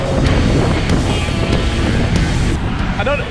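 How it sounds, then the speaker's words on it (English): Strong wind gusts across the microphone beside Hamilton Harbour, a loud continuous roar with sharp buffeting bursts, with faint distant engine noise underneath. "God, that wind really, really just picked up."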